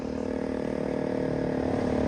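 A dirt motorcycle engine held at high revs for a wheelie, a steady loud buzzing roar close to the listener with no pause and no talk.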